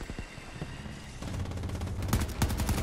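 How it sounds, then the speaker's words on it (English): Gunfire in the video game Battlefield 2042 builds from scattered distant shots into a denser run of sharp cracks toward the end, no voices. "Oh, I shot someone."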